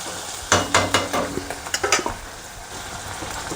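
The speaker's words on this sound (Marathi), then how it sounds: "कांदा भाजा लागला" Onion frying in a pan for a spinach dish, with a soft sizzle beneath a quick series of spoon taps and scrapes early on, then settling into a steady low frying hiss.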